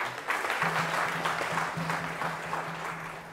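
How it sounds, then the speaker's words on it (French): An audience applauds at an honours ceremony, a steady round of clapping at moderate level with a low tonal hum running underneath. "Merci de l'applaudir également."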